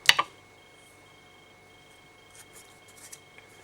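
Scissors make two quick, crisp snips close up as they cut fly-tying wing material, followed by faint soft handling rustles.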